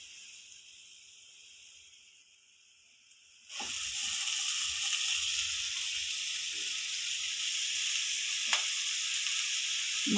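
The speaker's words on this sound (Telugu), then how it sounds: "ఇప్పుడు దీంట్లో మెంతి కూర వేద్దాము" Fenugreek leaves hit a hot frying pan partway through, setting off a sudden loud, steady sizzle that carries on to the end, with a few faint stirring knocks.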